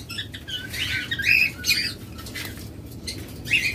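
Pet birds from a high-mutation breeding pair chirp and squawk in short, bright bursts with some wing flutter, fairly close against a steady low background hum.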